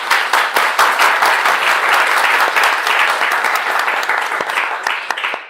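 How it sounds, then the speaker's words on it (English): Dense applause from an audience at a science and spirituality talk, steady and loud throughout with many overlapping claps that thin slightly near the end. "I think we need a special applause for Medha"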